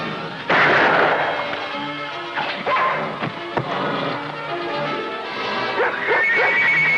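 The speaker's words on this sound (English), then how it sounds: "That dog is spooking the horses." A dog barks and yips close by among horses in an old Western scene, sharp repeated barks over commotion and background noise.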